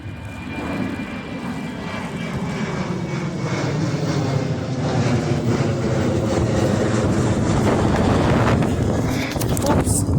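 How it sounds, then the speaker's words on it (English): Loud, steady wind roar buffeting the microphone, a heavy rumble that builds slightly over the stretch with no clear pauses. "It's been very windy so far."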